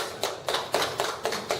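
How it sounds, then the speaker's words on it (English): A handful of people at a business school open forum clap in a sparse, rhythmic burst of about six distinct claps, fairly faint and close. "can we give him a round of applause?"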